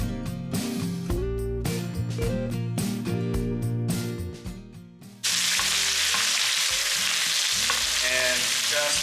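Wagyu steak pan-searing while it is basted with butter and garlic. Music plays at first, then a loud, steady sizzle of frying fat takes over and runs continuously to the end.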